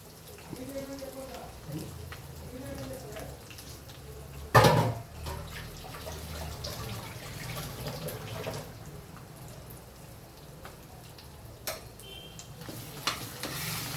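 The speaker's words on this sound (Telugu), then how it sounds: "ఈ నూనె అంతా మంచిగా అంతా పట్టియాలన్నట్టు, మంచిగా కలుపుకోవాలి" Spinach chutney (palakura pachadi) being stirred in hot oil: soft scraping and gentle sizzling, with one sharper clatter, while a voice talks quietly at the start.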